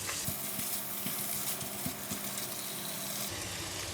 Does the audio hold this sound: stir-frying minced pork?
yes